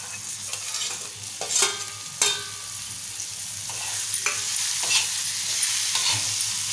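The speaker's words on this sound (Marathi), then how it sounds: "आता आपण जी कोळंबी साफ करून घेतले ती घालूया" Cleaned prawns drop into sizzling masala on a tava, a steady hiss broken by a few sharp spatter bursts and scraping stirs, close and fairly loud with no talk.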